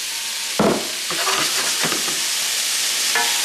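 Loud, continuous hiss of food sauteing in oil in a very hot pan, close up, with a few clattering stirs and pan knocks breaking through the sizzle.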